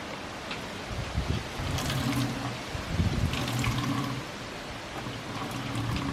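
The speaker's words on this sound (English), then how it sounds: "then you just wring it out and then use it again" Water from a ShamWow cloth being wrung out over a bucket splashes and drips in uneven bursts, close by, with sloshing and trickling between squeezes.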